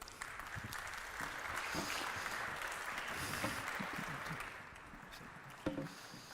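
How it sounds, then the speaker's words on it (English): A room of people claps for a panel at a conference event, a steady wash of clapping heard at a moderate distance, rising slightly in the middle and fading near the end with a brief bump. "So a round of applause for our panel,"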